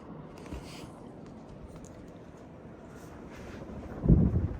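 A Palm Air Hugger Deluxe ceiling fan spins with a steady, soft airy whoosh that stays fairly faint throughout, rising briefly to a louder rush near the end.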